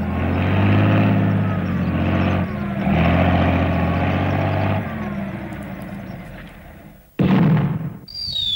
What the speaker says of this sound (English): Send in the anti-mole tank!